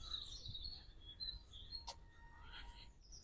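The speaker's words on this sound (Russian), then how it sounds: "Красиво поют птички. Судя по всему, соловьи." Nightingales sing in Richmond Park, London: faint, distant chirps and thin whistled notes over a soft outdoor hush, with one sharper call near the middle.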